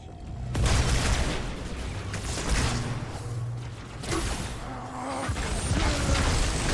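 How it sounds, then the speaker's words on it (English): Loud video game explosions burst out in a rapid barrage, heavy booms and crashes recurring in several waves over a dense, rumbling background. "Those were a lot of explosions."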